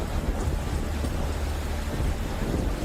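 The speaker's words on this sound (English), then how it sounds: "Strong winds and heavy rain thrash the city in the warm tropical air." Heavy monsoon rain and strong wind lash Singapore, a dense, steady roar of broadband noise that fills the whole stretch without a break.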